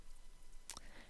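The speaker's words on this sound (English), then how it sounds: "Sorry, that's my phone." A mobile phone gives a brief electronic chirp during a hand-sewing session on a skirt. It is a single short alert that stands out against a faint, quiet room background.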